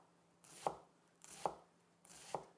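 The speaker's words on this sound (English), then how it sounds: "we start to cut the onion like so" Three evenly spaced knife strikes chop an onion on a cutting board, each a sharp, close thud with a soft scrape, about a second apart with quiet between them.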